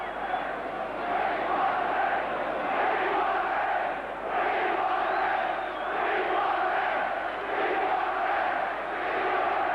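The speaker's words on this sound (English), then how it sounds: "you can probably hear the crowd. We want a ref." A football crowd at Liverpool versus Arsenal in the 1980 FA Cup semi-final third replay chants in a sustained, rolling roar, swelling and dipping in waves across a big stadium, with a commentator's voice over it.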